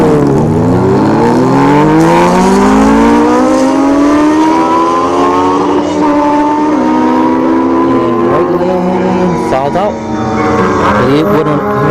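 Honda CBR 1000 and Suzuki Hayabusa motorcycles drag racing at a dragstrip, engines revving loud and close with rising, shifting pitch through the gears over steady crowd and track noise.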